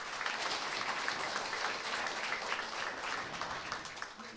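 An audience at an award ceremony for the Kyungam Prize gives a round of applause for the judging panel, steady crowd clapping at moderate, somewhat distant volume that tapers slightly near the end.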